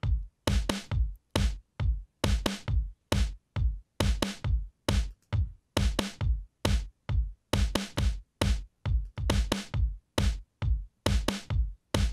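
A looping electronic drum pattern of punchy kicks and sharp snare hits in a fast, steady rhythm, played alone and repeating throughout.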